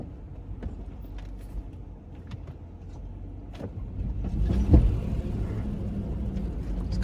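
An off-road vehicle rumbles over rough terrain in Goblin Valley, its engine rising into a louder rev near the middle before holding a steady heavy drone with scattered knocks and clunks.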